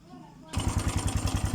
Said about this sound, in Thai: เดี๋ยวผม สตาร์ทเครื่องนะครับ